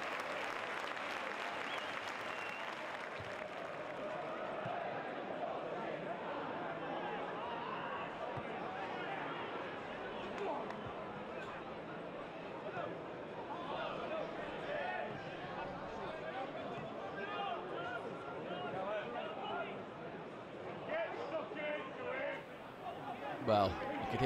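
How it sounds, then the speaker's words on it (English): Crowd noise at a Chesterfield versus Forest Green Rovers football match, a steady murmur with occasional raised shouts and applause under continuous commentary. "you could hear the advice from the crowd there"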